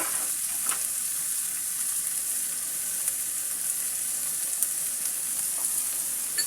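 Bottle gourd peel and potato fry with salt sizzles in a pan as it is stirred, a constant close hiss with occasional faint scraping ticks and no talk.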